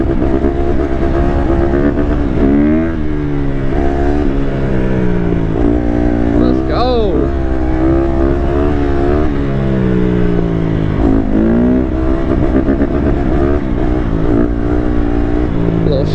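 A Honda CRF150R dirt bike with a turbo whistle fitted to its exhaust runs loud and close, its engine note rising and falling steadily through revs, with a brief high whistle over the motor.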